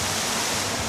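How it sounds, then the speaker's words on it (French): An indoor waterfall cascades on the sixth floor of a building in Bangkok, a steady, dense rush of falling water with no pauses. "Il y a une cascade."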